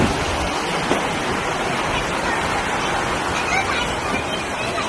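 Floodwater rushing through Mumbai streets after 24 hours of monsoon rain: a dense, loud, continuous wash of churning water, with a faint blur of distant voices mixed in beneath it.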